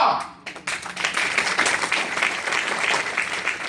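An audience claps steadily through a university convocation ceremony, a dense, sustained round of applause that sets in after a brief pause.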